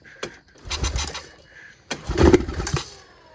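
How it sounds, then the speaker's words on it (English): A 1997 Honda Recon 250 ATV that sat outside for 15 years sputters through rough cranking attempts, with short bursts and sharp pops as the engine tries to catch, heard up close with no talk. "little backfire"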